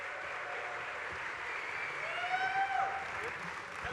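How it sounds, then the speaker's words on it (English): Applause from a convention audience at a Star Wars Celebration panel, fairly faint and distant, a steady wash of clapping with some whistles or voices rising through it. "Give them a round of applause."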